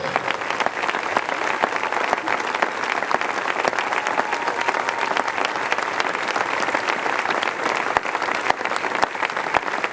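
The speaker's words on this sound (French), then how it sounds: "Acclame très fort" A church congregation claps and cheers loudly in praise, a dense, continuous roar of applause that stays steady and close throughout.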